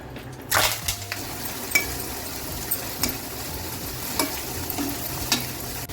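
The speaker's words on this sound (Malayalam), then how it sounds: "ഓയിൽ ചൂടായി നമുക്ക് ഉള്ളി ഇടാം" Onion fries in hot oil with a continuous sizzle, punctuated by regular clacks of a spatula stirring against the pan, close and fairly loud.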